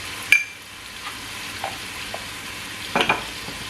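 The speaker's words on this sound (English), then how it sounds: "Then give it a stir." Egusi stew with chili pepper is stirred in a pot, giving a few brief scraping strokes spaced apart over a soft, steady sizzle, with no talking.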